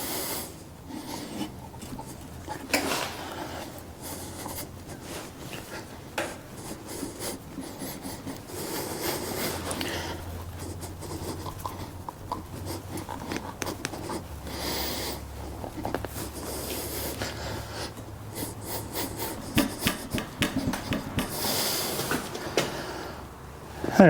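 On a Farmall H tractor, an axle housing is slid home onto the bull pinion assembly, making intermittent close metallic scraping and rubbing with a few sharper knocks and no voices.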